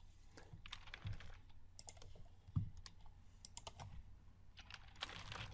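Soft, quiet keystrokes on a computer keyboard tap in irregular bursts with a few louder presses, alone with no voices, as a web address is entered while installing Python 3.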